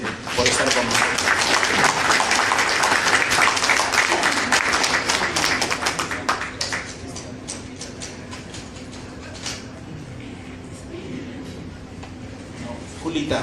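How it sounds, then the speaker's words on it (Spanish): Audience at a book presentation during the 2017 Lima International Book Fair clapping loudly and thickly for about six seconds, then thinning to scattered claps, with voices talking underneath as it dies down. "para ustedes creo yo un aplauso"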